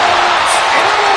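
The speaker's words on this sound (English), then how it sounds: "Listen to this crowd." A packed basketball arena roars loudly and continuously, the student section in full voice during Illinois' season opener against Eastern Illinois.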